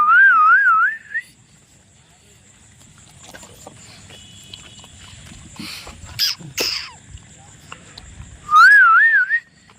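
A warbling, wavering whistle sounds at the start and again near the end, with faint clatter and quiet background sounds in between.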